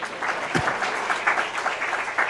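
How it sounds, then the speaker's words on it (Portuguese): Audience applause at a lecture on negotiation under pressure, a steady round of clapping filling the whole short stretch, fairly close and even, with no voices over it. "Salva de palmas para ele"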